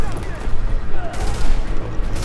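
Loud, dense video game turret gunfire, a sustained rattling barrage of rapid shots with booming explosions, close and continuous throughout.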